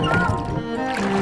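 A wupeng boat, a traditional black-canopied rowing boat, moves along an old canal in Shaoxing, with water lapping and trickling close by and a faint tonal hum under it.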